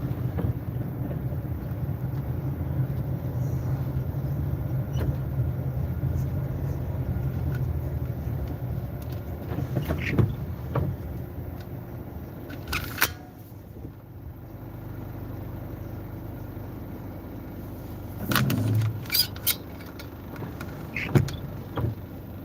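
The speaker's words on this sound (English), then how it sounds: "I gotta get across 5 lanes of traffic." Busy multi-lane road traffic heard from inside a vehicle during a food delivery run, a low continuous rumble with occasional brief swells and knocks as cars pass, steady throughout and with no talking.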